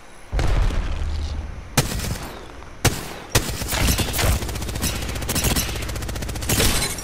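Bursts of video game gunfire and grenade explosions, loud rapid volleys broken by sharp booms, dense and continuous with no talking.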